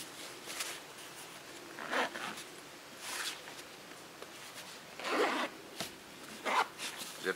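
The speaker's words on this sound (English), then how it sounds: "Zip the bag up and you are ready for action." A Stay Cool wine bag is zipped shut in a series of quick, close, rasping zipper strokes separated by brief pauses.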